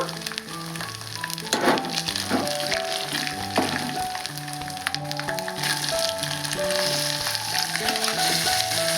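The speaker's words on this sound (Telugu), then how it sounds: "నేను టమాటా ముక్కలు వేస్తున్నాను" Tomato pieces sizzle in a frying pan with steady, close crackling and occasional stirring, while soft background music plays underneath.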